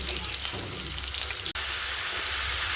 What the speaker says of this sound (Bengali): আমি পেঁয়াজটা লাল করে নিই